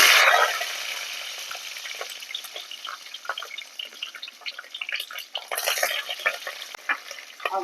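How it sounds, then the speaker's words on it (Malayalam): Mustard seeds hit hot oil for a Kollam-style tuna curry with kudampuli and chilli: a loud initial burst, then a busy, close crackle and spatter of popping seeds with occasional stirring. "ഇനി ചേർക്കാൻ തന്നെ നമുക്ക് കടുക് ഇട്ട് കൊടുക്കാം."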